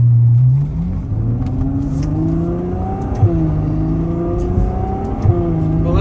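A 2018 Ferrari 812 Superfast pulls away on a farm road, its engine climbing through rising revs with brief shift dips, loud and close from inside the cabin.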